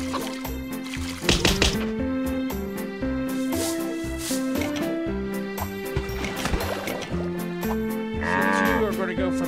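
Cartoon cows mooing in the Farm Mania farming video game, several drawn-out moos in a row over cheerful game music, with splashy liquid effects near the end.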